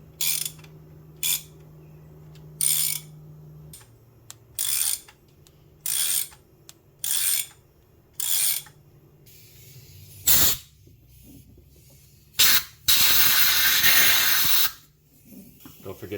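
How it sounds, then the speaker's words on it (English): Thread tapping in an aluminium cylinder head of a BMW M54 engine, with a string of short, sharp air-hose blasts clearing chips, then a longer loud hiss at the end. "we'll back it out numerous times to clear out the chips with the air hose"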